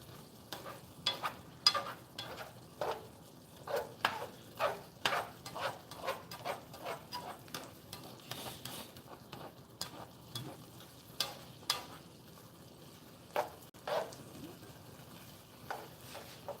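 Onions fry in a pan for a steak breakfast taco, with a soft sizzle running under repeated scraping stirs, a steady rhythm of close, fairly quiet strokes of the utensil against the pan.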